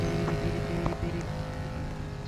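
A car pulling away in the hitchhiking video game Hitch a Hike, a steady engine drone with a rising hum, moderately loud and continuous, no talking.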